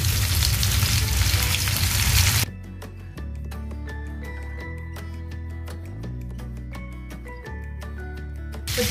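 Tandoori chicken pieces frying in a pan give a loud broadband sizzle that then drops to a quieter, steady crackle and hiss, close up and with no talking.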